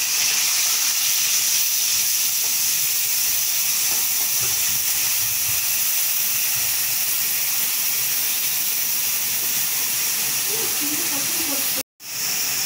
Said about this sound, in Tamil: இப்போது நான் வெங்காயம் சேர்த்துக்கிறேன்